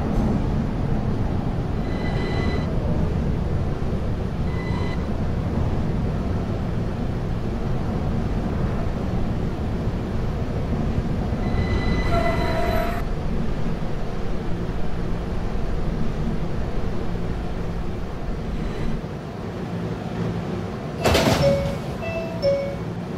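Steady low rumble of a Q Express subway train running in the Roblox game PTA Subway, with brief metallic squeals and rattles rising over the continuous drone.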